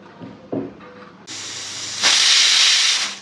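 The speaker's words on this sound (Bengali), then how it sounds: "এইবার ঠিক সিটি পড়ছে।" A pressure cooker whistle blows in a home kitchen, starting after some faint clatter and building into a loud, steady, rushing steam hiss that grows stronger partway through.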